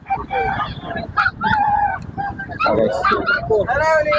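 Fighting cocks at a crowded outdoor pet market in Bocaue give loud, harsh, repeated calls close by, mixed with people talking in the background.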